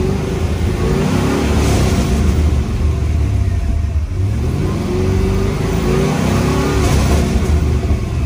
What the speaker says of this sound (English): when I give it some revs,